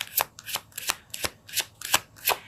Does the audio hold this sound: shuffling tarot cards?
yes